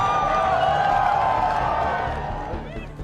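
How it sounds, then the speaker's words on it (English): Large crowd cheering and roaring to greet King Charles and Camilla arriving in Hamburg, a dense sustained wash of voices and whoops that swells early then eases slightly toward the end. "The crowds turn out in their thousands to greet King Charles and Camilla as they arrive in Hamburg."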